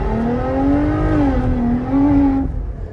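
Jeep Gladiator Rubicon with a naturally aspirated 284 hp Pentastar engine and the exhaust removed, revving loudly up and down in a rising and falling drone up close, then dropping off sharply near the end.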